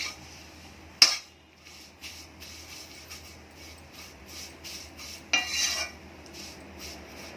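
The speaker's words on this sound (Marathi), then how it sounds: "शेवया पण आपण सोनेरी कलरच्या भाजून घ्यायच्या तुपामध्ये" Vermicelli roasted in ghee and stirred with a spoon against the pan, giving two louder scrapes and repeated soft rubbing strokes over a low, steady background.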